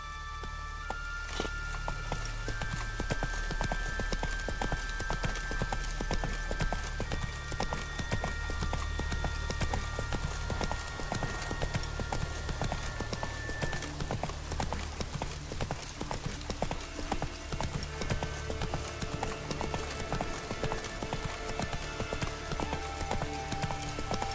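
Horse hooves clip-clopping at a fast, continuous pace in The Witcher 3: Wild Hunt, dense rhythmic beats under steady ambient game sound and music.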